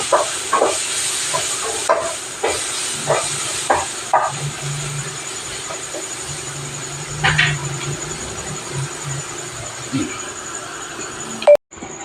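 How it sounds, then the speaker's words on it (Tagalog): Garlic and onions sautéing in a pan for a chicken soda lemon dish, a steady soft sizzle with occasional stirring clinks, close by, with someone talking over it. "nag-brown na yung garlic natin yung ginigisa kanina"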